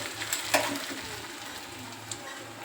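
Khichdo fries and is stirred in a hot pan, giving a steady low sizzle with a few sharp scraping clicks near the start and one more toward the end, close by and with no talk.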